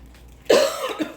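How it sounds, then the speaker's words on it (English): A single sharp cough, close and loud, after a moment of near silence. "Sorry for the cough."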